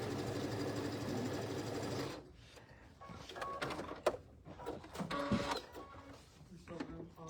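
A sewing machine stitching a quilt block from corner to corner, a busy mechanical whirring run with uneven clicks, heard after a loud steady noise cuts off; faint background voices.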